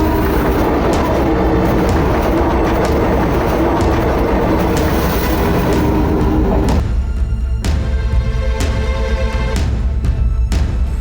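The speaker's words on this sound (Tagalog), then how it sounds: "Hindi niya narinig yung ugong ng tren." A train passing close by, loud continuous rumble and rolling roar, then rhythmic clacking of wheels over rail joints as it goes by.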